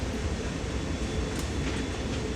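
A VIA Rail passenger train, number 911, passes close by with a steady, dense rumble and wheel noise that stays constant across the short stretch, with no voices.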